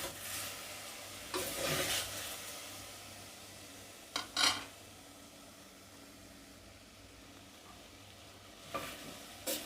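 Tomato, onion and whole garam masala frying in a pan for a lotus root dish: a low continuous sizzle with a few brief bursts of spoon stirring and scraping, close and quiet.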